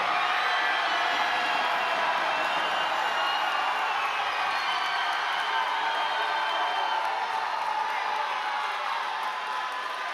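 A boxing fight night crowd fills the arena with dense, sustained applause and cheering, a steady wash of clapping and whoops at an even level for the whole stretch.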